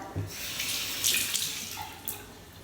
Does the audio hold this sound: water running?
yes